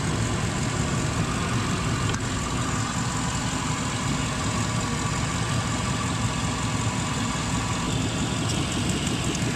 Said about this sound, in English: that's the compressor trying to kick on